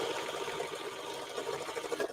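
A sewing machine running fast while stitching a cape, a quiet, steady mechanical whir with a faint rhythmic pulse throughout.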